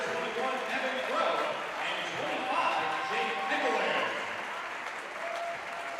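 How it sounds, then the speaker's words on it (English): A basketball arena crowd gives two senior players a sustained standing ovation at a college men's game, with broad applause and cheering throughout while a commentator talks over it. "Hagelin and Crow, who receive a much-deserved standing ovation from the Taylor's Odell Arena crowd"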